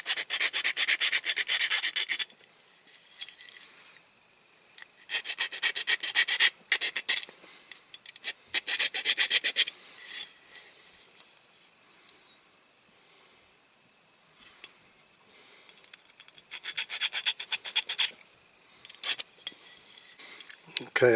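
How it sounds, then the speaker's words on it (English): A file rasps against a part of a Dinky Toys Commer artic die-cast model during restoration, in close, loud bursts of rapid back-and-forth strokes separated by brief pauses. "that's going to need quite a bit of filing, that one"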